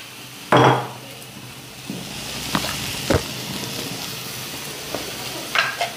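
Ingredients sauté in a little oil with a soft background sizzle, broken by several sharp utensil knocks and scrapes against the pan at irregular intervals.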